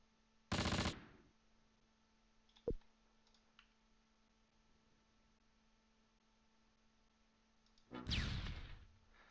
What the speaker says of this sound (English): Oh, he's shooting at us.